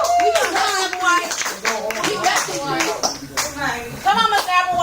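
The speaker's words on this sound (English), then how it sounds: "Everybody clap Applewhite." Students clap in a classroom, a close, loud burst of hand claps mixed with lively chatter and children's voices talking over it.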